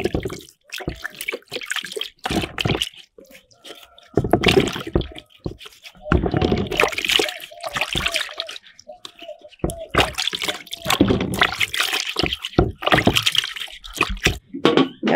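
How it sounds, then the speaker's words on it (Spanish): Sweet potatoes being washed in water on a rural ranch in La Huasteca, with intermittent splashing and sloshing bursts in a basin, irregular and close, separated by short quiet gaps. "Los camotes se lavan muy bien."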